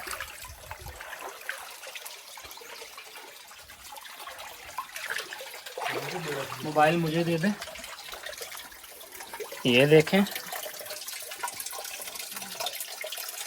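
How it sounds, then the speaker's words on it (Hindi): Spring water runs continuously out of rock at the shrine of Hazrat Ayub in Salalah, Oman, making a steady, moderately close trickle and gush beneath someone talking throughout. "ये मसलसल चश्मे का पानी निकल रहा है यहाँ से"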